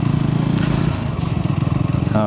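A Scrambler 400X motorcycle riding off-road, its low engine throbbing steadily up close, with a rider talking over it.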